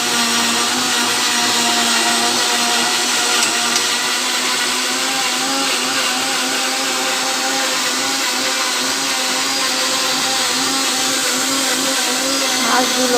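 A blender grinds a paste of poppy seeds, green chili and ginger, a loud, steady motor whine held unbroken from start to finish, with no talking.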